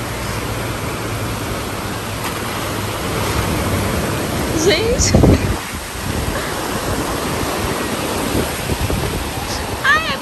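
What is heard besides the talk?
ocean waves breaking at the beach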